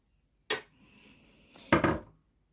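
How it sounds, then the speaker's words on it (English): Plastic garter comb pulled off a Meda garter knitting machine: a sharp clack, a light scrape, then a heavier clattering knock, all close and with no talk. "take the garter comb off, flip it over"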